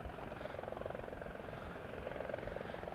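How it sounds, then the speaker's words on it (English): A helicopter passes overhead, a steady low rotor drone with faint rhythmic chop that holds at a moderate, distant level across the whole stretch, with no talk over it. "We got a chopper coming."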